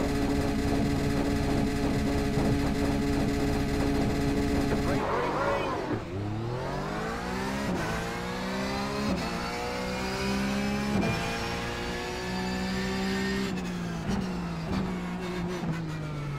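A Porsche 911 GT3 race car engine in iRacing at COTA, revving hard at the start, then rising repeatedly through the gears as it accelerates away, loud and continuous, with a voice speaking over it.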